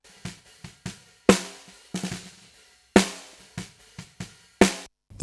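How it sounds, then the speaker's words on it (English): Snare drum captured by a bottom microphone, sharp hits with a bright crackling wire rattle, several loud strokes between softer ghost notes in an uneven pattern, dry and close. "Snare bottom sounds like this."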